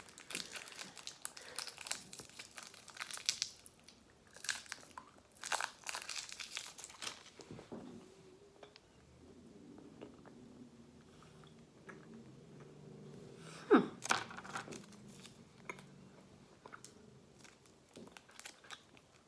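Green lemon-flavored candy from a snack box being unwrapped, with dense crinkling plastic up close for several seconds, then quieter rustles and crunching as it is chewed.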